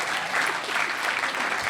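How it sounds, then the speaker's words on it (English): A studio audience applauds during a comedy talk show, a dense, steady wash of clapping that holds at an even loudness throughout, with no talking. "You're getting more applause now than you did 30 years ago"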